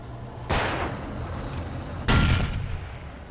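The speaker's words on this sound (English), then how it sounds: "You shoot the gas cans." Two loud gunshots boom in Alan Wake Remastered as shots are fired at gas cans, spaced about a second and a half apart over a low ambient background, with no voices.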